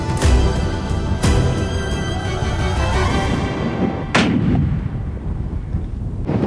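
A rifle fired at a Cape Mountain zebra on a hunt: two loud, close gunshots about a second apart, each with a sharp crack and a long rolling echo, then a third loud report later, with no talk.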